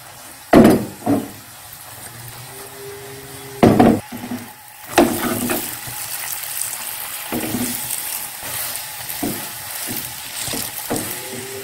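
A radish-stuffed paratha fries in ghee on a pan, with a soft continuous sizzle beneath several sharp knocks and scraping taps of a utensil spreading the ghee, close and moderately loud, no speech.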